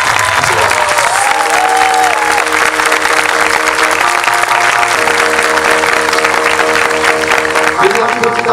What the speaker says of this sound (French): applaudissements pour le Futuroscope